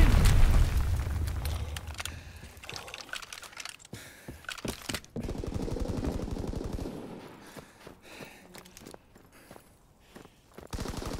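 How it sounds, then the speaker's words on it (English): Enemy mortar fire in a WW2 video game, loud booming impacts and sharp bursts of gunfire in a dense, chaotic battle mix, with rumbling blasts that ease and then swell again. "Enemy mortar fire incoming."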